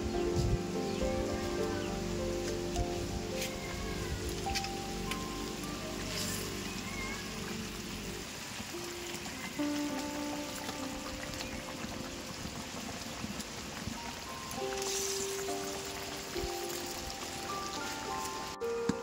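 Pabda fish curry bubbles and simmers in a pan with a steady, dense crackle like light rain, continuous and close throughout, with faint tonal background sounds.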